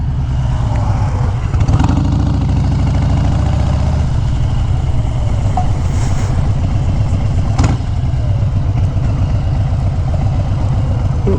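A Harley-Davidson Sportster motorcycle engine idles steadily nearby with a loud, continuous low rumble throughout, a few faint clicks and knocks over it and no talk.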